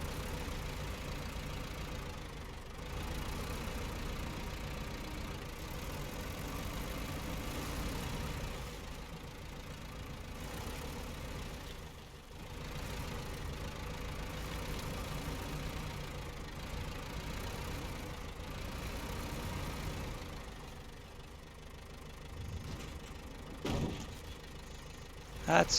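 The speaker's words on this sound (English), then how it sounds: "For a putt-putt engine." A truck engine in the SnowRunner video game idles and labors steadily at a low, rumbling putt-putt pitch, running continuously for the whole stretch with someone talking faintly over it.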